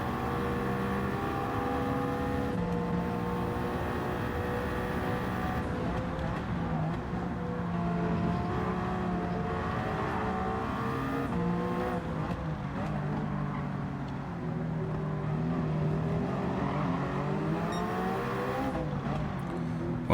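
A race car engine in Gran Turismo 7 during the Nürburgring 24-hour race roars loudly and continuously, its pitch rising and falling through gear changes with tire noise, and no voices.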